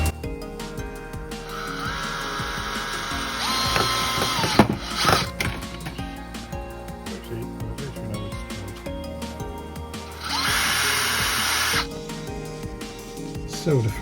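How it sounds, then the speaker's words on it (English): A power drill drives screws through MDF layout supports into cross beams fixed to roof girders, two loud whirring bursts a few seconds each, separated by knocks and other workshop noise. "So the first layout supports are screwed in place."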